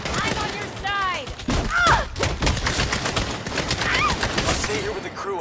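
Gunfire crackles in a Saints Row game firefight, bursts of shots and impacts layered with shouting voices and whizzing effects throughout.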